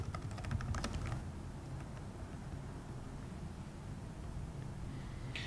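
Quick bursts of computer keyboard typing, close and fairly quiet, with a steady faint background hiss and a short final cluster of keystrokes.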